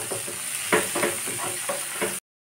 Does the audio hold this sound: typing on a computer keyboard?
no